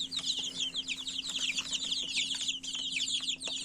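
Many Rhode Island Red chicks, nearly three weeks old, cheep and peep busily together in a constant high chatter, close by, with a low steady hum underneath.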